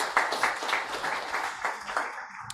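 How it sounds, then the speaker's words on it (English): Audience applause for a managing director, a lively wash of many hands clapping with rhythmic surges, fairly close and sustained, tapering off at the very end. "let's give him a round of applause"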